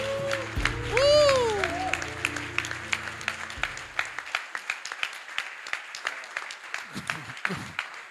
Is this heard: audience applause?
yes